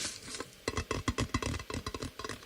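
Rapid fingertip tapping on a hard object, quick uneven bursts of clicks close by with brief pauses, no talking.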